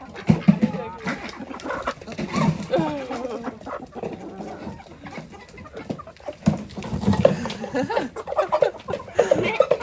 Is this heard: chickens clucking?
yes